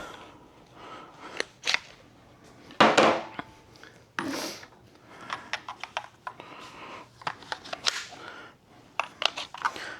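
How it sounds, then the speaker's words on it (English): An 18 V Makita battery pushed into a Jesimaik 1/2-inch impact wrench, with close plastic knocks, clicks and rattles, including one loud snap of the pack locking in, and no voices. "let's throw the Makita battery in it and see what it does"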